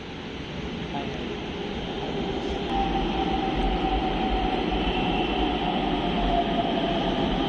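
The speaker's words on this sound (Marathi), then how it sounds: "ट्रेन येत आहे" A metro train pulls into a Pune metro station, its rumble and rising whine building steadily and growing louder as it nears, with a faint voice in the background.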